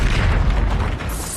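A single heavy magical blast from the Expulso spell in Hogwarts Legacy booms close and loud, a dense low rumble that swells and then fades over about a second and a half.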